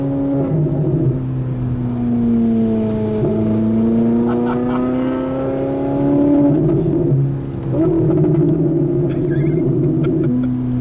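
A Ferrari 458 accelerates hard with a loud, close exhaust howl climbing in pitch, dropping sharply at two gear changes, with brief crackles and pops scattered between the rising pulls.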